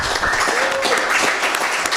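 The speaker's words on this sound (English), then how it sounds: "Folks, round of applause." An audience at a Kansas City jazz panel event gives a round of applause, a steady dense wash of clapping over two seconds with a faint tonal line running through it.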